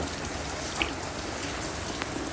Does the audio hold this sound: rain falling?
yes